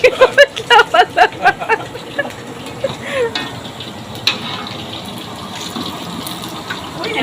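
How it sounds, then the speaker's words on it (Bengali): Dhoka lentil cakes fry in oil in a large pot for a Vaishnava feast, starting with a rapid run of loud stirring scrapes and clanks, then settling into a close, steady sizzle with occasional knocks. "ধোকা ভাজা হচ্ছে, ধোকা।"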